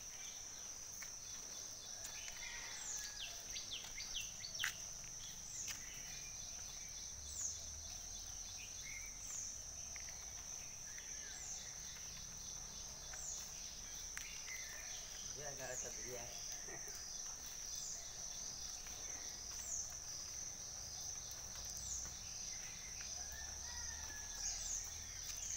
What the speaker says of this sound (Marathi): सकाळचा टायमिंग आहे, बघा किती गोड आवाज येतोय पक्ष्यांचा।